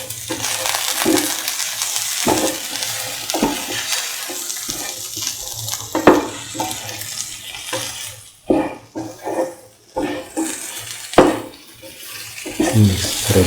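Okra, potato and spice mixture being stirred and mixed in a pan, giving wet, scraping, sloshing sounds with sharp spoon knocks against the pan, steady and close throughout.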